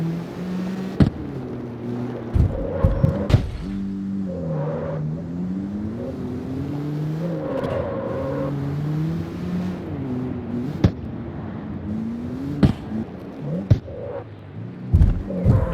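A Honda Civic in a driving video game, its engine note droning and rising and falling as the car moves around, with sharp clicks and knocks scattered through.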